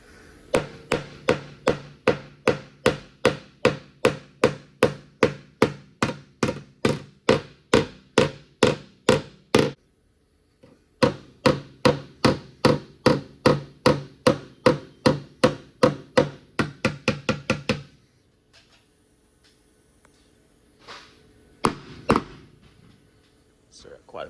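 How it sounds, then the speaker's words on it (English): A hammer taps on metal in quick, even strokes, two long runs of sharp close-up blows separated by a brief pause, then quiet with a few knocks. "let me tap that with a hammer a little bit"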